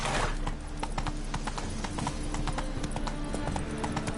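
Hooves of Roach, the Witcher's horse, clip-clop in a steady walking rhythm, close and clear throughout over a low ambient bed, with no talking.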